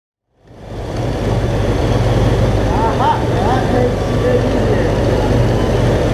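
A carbureted car engine idling close by, a steady low rumble starting after a brief silence and holding even throughout, with a voice briefly audible over it.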